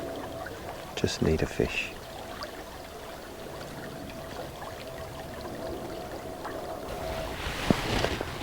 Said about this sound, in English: Sound of flowing water, tucked up under this tree.